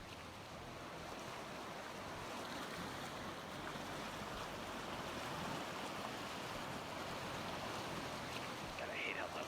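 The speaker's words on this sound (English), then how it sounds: "Gotta hate how loud the river is." A loud river rushes continuously in a wolf video game, a dense broadband wash of flowing water that holds steady throughout and sounds close.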